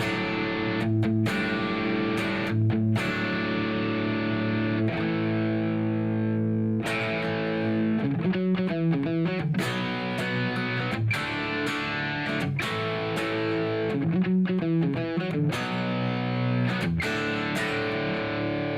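A dry instrument with no reverb or delay plays a sustained, distorted riff of chords and repeated notes that cut off cleanly with no tail, loud and steady throughout.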